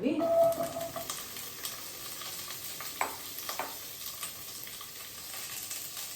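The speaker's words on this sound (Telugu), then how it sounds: "ఇవి కొంచెం ఫ్రై చేస్తున్నాము" Onions and green chillies frying in oil for an egg kurma, a steady soft sizzle with occasional stirring scrapes and clicks, a voice briefly heard at the start.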